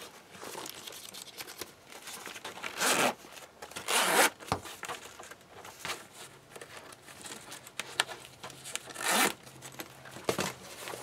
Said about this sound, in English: And when it zips up